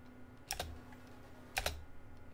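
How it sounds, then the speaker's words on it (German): Two short bursts of keystrokes on a Razer Ornata Chroma keyboard, quick clustered clicks at close range, separated by a pause over a low steady hum. "die Razer Ornata Chroma, das ist nämlich die Tastatur hier in diesem Video"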